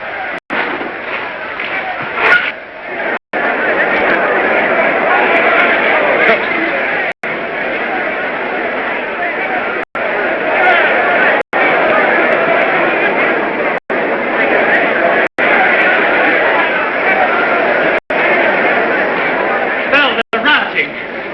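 An angry crowd fills a city street with a dense, continuous roar of shouting and agitated voices, loud and close throughout, broken by a few sharp momentary cuts.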